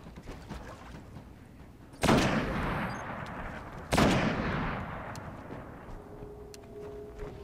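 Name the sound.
gunfire in Destiny video game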